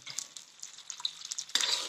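Used frying oil, left over from frying karanji, heats with vinegar in a pan, giving a faint, thin sizzle with light crackles that swell briefly near the end.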